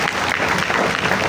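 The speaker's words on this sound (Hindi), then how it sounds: "तालियां भाई इनके लिए" Applause from a class of students fills the room, a steady dense clatter of clapping hands lasting about a second, loud and continuous with no pauses.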